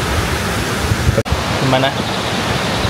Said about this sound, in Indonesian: Ya seperti air terjun pada umumnya.